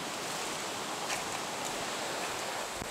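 A river waterfall in Malaysia roars as a steady, dense rush of falling water, close and unbroken, with no voices.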